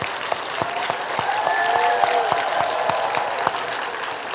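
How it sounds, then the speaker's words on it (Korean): A church congregation claps loudly and steadily for several seconds, dense close applause with a few sharper individual claps standing out and no voices over it. "맛있는 밥까지 해주시는데 박수 한번 힘차게 합시다"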